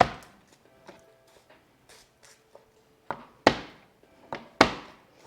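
Garlic is chopped by knife on a plastic cutting board: sparse light taps at first, then several sharp, close thunks at uneven intervals, with no talking.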